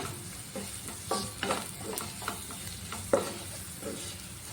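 Cumin powder and garam masala stirred in a hot frying pan, a steady sizzle with repeated scraping spoon strokes at an irregular rhythm, close and moderately loud, no talking.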